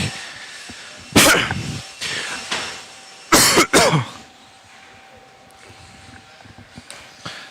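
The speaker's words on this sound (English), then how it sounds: "Excuse me for coughing." A few loud, close coughs and throat clearing in two bursts at an RC car race, separated by quieter moments with faint background noise.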